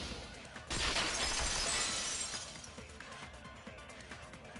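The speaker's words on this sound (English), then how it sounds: "At the entrance hall, they heard the sound of the window shattering." A glass window shatters as a video game sound effect: one sudden loud crash followed by a tinkling spray of breaking shards that fades over a few seconds.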